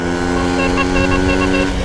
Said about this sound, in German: Diese Hupe hat sich mir voll angetan.